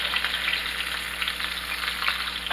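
Salmon sizzles steadily in a pan while being basted with butter, giving a close, continuous hiss and crackle with small bursts of spattering throughout.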